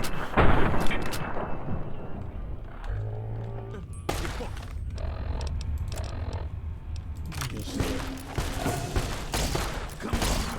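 Weapons fire in the post-apocalyptic game Fallout: New Vegas, including a laser pistol, with repeated loud sharp shots and bursts over dense game noise and a low droning tone, while a player's voice talks intermittently.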